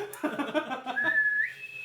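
A person whistles in imitation of an elven whistle, a breathy warble that settles into a sustained tone and then slides upward, close and fairly soft.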